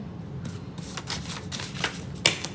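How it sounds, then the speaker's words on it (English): A deck of playing cards is shuffled during a tarot-style reading, giving a steady papery riffle with a few sharper snaps near the end. It is close and moderately loud, and no one speaks. "Let me not shuffle it like that."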